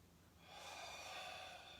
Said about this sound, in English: Dropping down and breathing in